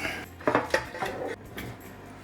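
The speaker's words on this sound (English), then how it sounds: "I'm just going to try to use this big spatula here. Try to get under it." A big metal spatula scrapes and knocks under a Detroit-style pizza in a metal pan, giving a few sharp, close clatters and scrapes over about two seconds.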